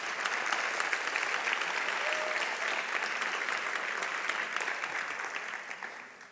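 An audience at an Arangetram dance recital breaks into dense, steady applause that holds strong and then tapers off toward the end.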